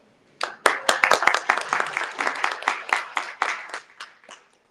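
A fairly small audience at a diabetes awareness fundraising event claps for a donor, a short burst of distinct close hand claps that swells quickly and fades out after a few seconds.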